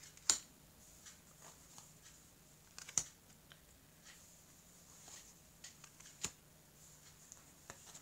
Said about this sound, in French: je vais couper le jeu